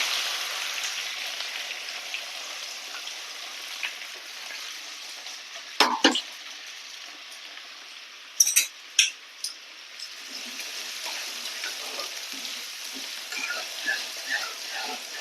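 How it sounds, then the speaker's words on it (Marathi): Finely chopped onion sautéing in a pan with curry leaves and fennel, a soft continuous sizzle broken by a few sharp clinks and scrapes of stirring. "बारीक चॉप केलेला कांदा"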